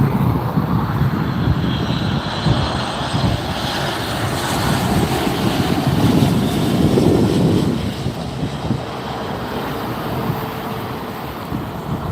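A Boeing 737 airliner roars steadily at LAX, its jet engines loud and close in a broad continuous rush with wind buffeting across the microphone.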